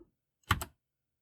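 Two quick, close keystrokes tap on a keyboard during work on a Commodore 64 cartridge dump, a brief double click surrounded by silence.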